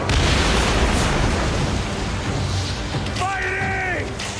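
Cannon fire from a galley in the video game Assassin's Creed Origins, a loud booming blast that rolls into a long, dense rumble, with a shouted voice near the end.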